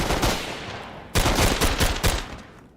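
Rapid bursts of AK rifle fire in the Tactical Assault VR shooter game, close and loud, with a sustained volley followed by a second string of distinct shots.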